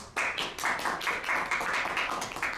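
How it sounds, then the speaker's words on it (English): Audience applause following a lecture presentation: a steady patter of many hands clapping, moderately loud and close, continuing evenly throughout with no voices. "I think he deserves certainly a well-earned round of applause."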